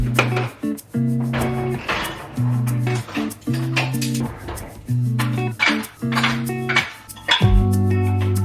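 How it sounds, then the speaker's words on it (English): Dishes clink and clatter as they are washed and loaded into a dishwasher in a home kitchen, with irregular knocks and a steady running hum between them. "There are some things that I need to put in the dishwasher and some dishes that I need to wash from earlier"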